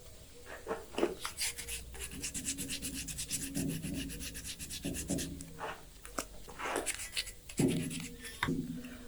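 Wet paper sandpaper rubs over an alabaster stone sculpture in close, scratchy back-and-forth strokes, some short and some drawn out, with brief pauses between passes.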